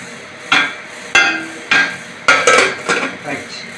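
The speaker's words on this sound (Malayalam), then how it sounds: "ഇനി ഇതൊന്ന് അടച്ച് വെക്കണം." Metal pot lid set down and clattering onto a cooking pot of aviyal, a Kerala coconut vegetable curry, giving several sharp close clanks spaced about half a second apart, with no talk.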